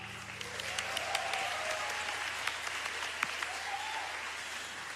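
Concert audience applauding a bassist at a live music festival show, sustained clapping with scattered louder claps and faint cheers, moderately distant and continuous throughout.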